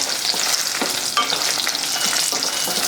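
Red chillies frying in hot oil for a pickle-style sorrel leaf preparation: a dense, continuous crackling sizzle, close and fairly loud, with light stirring and no voices.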